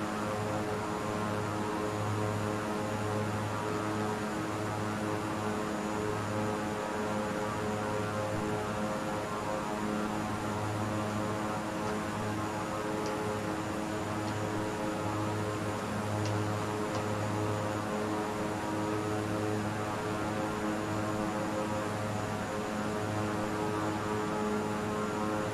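An airplane flying in Microsoft Flight Simulator 2020: a steady, droning engine hum with a pulsing low tone that runs unbroken throughout, moderately loud and without speech.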